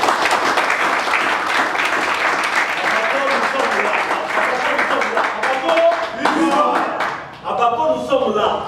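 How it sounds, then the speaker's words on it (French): Crowd at a political gathering of the Abako party in Kongo Central, applauding loudly and continuously with dense clapping, mixed with cheering voices and shouts toward the end. "Et comment les applaudir, s'il vous plaît?"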